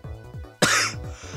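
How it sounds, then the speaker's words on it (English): A person coughs hard once, a sharp loud burst that stands out against quieter background game music with a repeating tonal pattern. "Sorry. I'm sorry for the coughing."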